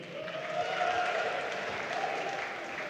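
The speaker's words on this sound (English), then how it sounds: "Please give a round of applause, though he won't hear it," An audience at a student pride opening ceremony applauds, a dense, steady wash of clapping holding evenly for a few seconds, fairly distant and uniform.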